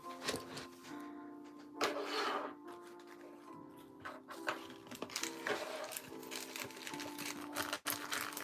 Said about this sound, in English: So I'm gonna go ahead and get started on embroidering.